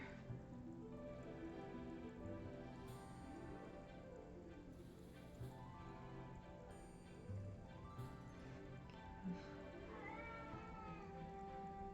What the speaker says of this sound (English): that's our old cat. She meows a lot.